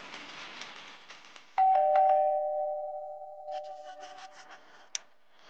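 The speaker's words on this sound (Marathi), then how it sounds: "तरी बेल वाजते, ऐकवत नाहीये का तुला?" A home doorbell gives a single clear chime that rings out and slowly fades. Faint rustling comes before it, and a brief sharp click follows near the end.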